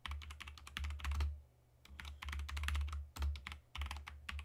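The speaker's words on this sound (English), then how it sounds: "I'm going to type an exclamation point tab to get just a basic emin abbreviation" Computer keyboard typing while writing code, in quick irregular bursts of clicky keystrokes separated by short pauses, close and fairly loud with no talking.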